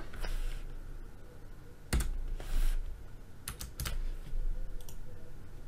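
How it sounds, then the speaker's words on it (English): Typing on a computer keyboard while entering a parameter into design software: a handful of distinct key clicks and clatters over a low, steady room hum, close and moderately loud. "I've got to make sure I type my parameter out properly."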